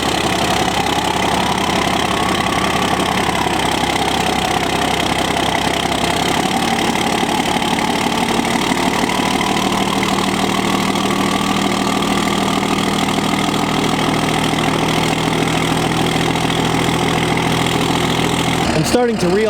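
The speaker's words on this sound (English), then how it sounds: "Let's get this truck started up." A warm, unplugged truck engine turns over and settles into a steady, loud idle that drones on with a low rumble until it cuts out at the very end.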